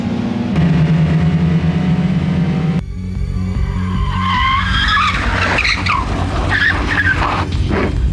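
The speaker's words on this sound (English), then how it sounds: "The cars will be able to skid around." Race cars skid and squeal around dirt tracks in a 1999 PlayStation racing video game, loud engine drone giving way to screeching tire slides and revving over a continuous roar.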